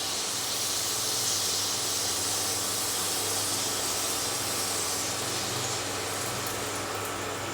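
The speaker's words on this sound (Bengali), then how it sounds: "দেখো কড়ার তেল গরম হয়ে গেছে, আমি 1 হাতা ব্যাটারটা কড়ার মধ্যে দিয়ে দেব।" A ladle of batter frying in hot oil in a kadai gives a loud, continuous broadband hiss and sizzle that stays steady and close throughout.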